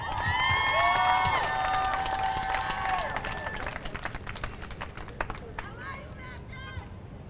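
At a drive-in high school commencement, an audience applauds and cheers the graduating seniors with clapping and shouts that are strong at first, then thin out into scattered claps.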